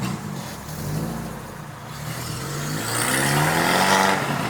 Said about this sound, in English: Valentino's leaking exhaust, or blowing exhaust. It's blowing like Hurricane Katrina.